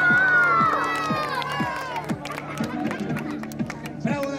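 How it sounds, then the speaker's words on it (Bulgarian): Children at a first-birthday party cheer and shout in a loud, lively crowd after a magician's trick, with a steady rhythmic thumping running beneath the excited voices. "Бурни аплодисменти за Васко!"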